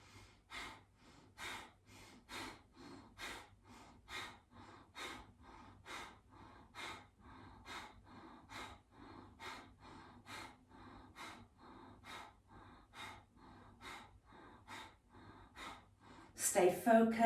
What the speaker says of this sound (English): a very natural breath of fire starts to come in with this movement